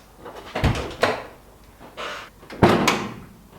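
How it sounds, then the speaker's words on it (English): Bonnet latch on a Ford Sierra Sapphire Cosworth being opened and shut, giving several sharp metallic clunks and thuds spaced across a few seconds, close up with no talking. "That new bonnet latch works absolutely spot on."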